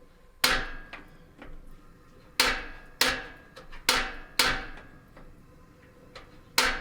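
The burner on a pop-up camper's propane stove is being lit, producing a series of sharp, close clicks from the igniter at irregular intervals, about seven or eight in all, against a quiet background.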